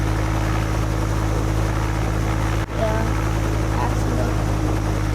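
Steady helicopter engine and rotor drone in the Roblox game Oil Warfare Tycoon, a continuous low hum with a brief dropout midway, heard under a voice speaking.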